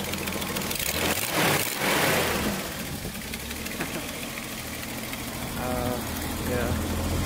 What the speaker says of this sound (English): you can hear that exhaust leak